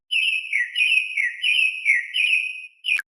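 A mockingbird gives a clear, pure, whistled song of long, wavering tonal phrases repeated without pause, close and fairly loud, closing with one brief sharp high note.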